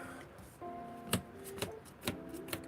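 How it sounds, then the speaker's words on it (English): A Yu-Gi-Oh card deck being shuffled by hand, with a few sharp riffling snaps and soft card slides spaced about half a second apart, close and fairly quiet. "let's shuffle this deck out."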